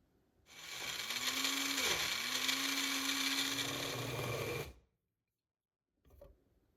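An electric mixer grinder blends cooled ingredients for white mutton korma, a loud steady whirring with a brief dip in pitch midway, running for about four seconds before cutting off, followed by a short faint knock.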